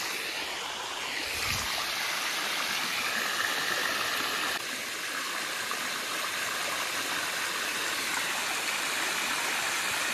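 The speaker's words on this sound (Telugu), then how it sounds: "ఇక్కడ వాటర్ ఎంత స్పీడ్గా వస్తుందో" A fast-flowing stream near the Gandahathi waterfall rushes in a steady, dense roar, loud and close throughout with no pauses.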